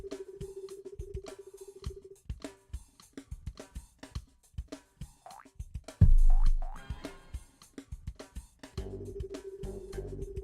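Repeated short boink hop sounds from the frog in the PS1 prototype of Frogger, a bright springy blip at each move, mixed with game music and other effects, with a louder low thump partway through.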